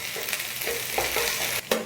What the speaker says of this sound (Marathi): आता त्याच्यामध्ये 1 चमचा अद्रक लसणची पेस्ट आपल्याला टाकून घ्यायची